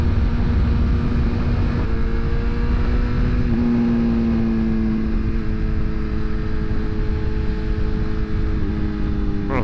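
A BMW S1000RR motorcycle on a night highway ride, its engine droning steadily and loud throughout with a sustained hum that shifts slightly in pitch, wind rushing over it.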